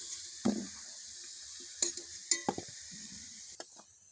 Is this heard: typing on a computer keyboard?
no